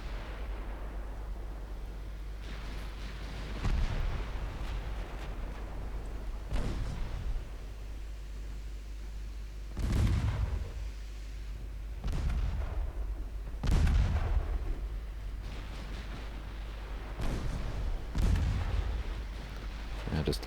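Repeated booms of 4.2-inch naval guns firing in the Ultimate Admiral Dreadnoughts naval warfare game, irregularly spaced heavy blasts over a low steady rumble.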